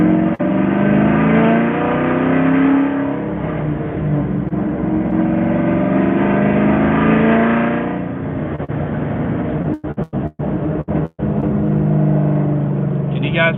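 A car engine runs steadily and loudly throughout, with a low rumbling drone and a few brief dropouts near the end.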